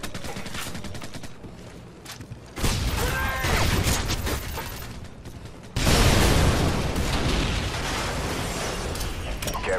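Gunfire and explosions in the Call of Duty: Modern Warfare 2 multiplayer video game, rapid bursts with two sudden loud blasts and sustained noisy rumble after each.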